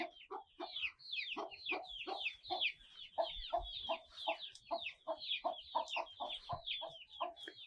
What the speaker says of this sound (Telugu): ఇక్కడైతే మరి చాలానే కోళ్ళు ఉన్నాయి